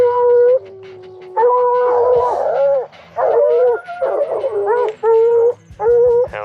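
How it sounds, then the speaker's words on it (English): Hound dogs bay during a spring bear hunt in open country, with loud, close, drawn-out howls and yelps rising and falling in repeated bursts, separated by short pauses. "Hound dogs are rolling."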